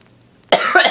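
Two quick, forceful coughs close up after a moment of near silence.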